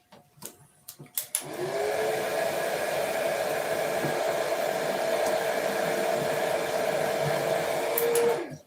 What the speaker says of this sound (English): I only got one heat gun